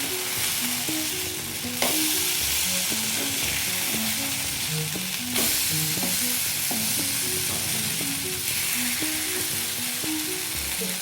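Masala fish fries in oil and is turned in the pan, giving a continuous close sizzle with light scraping, while music plays softly underneath.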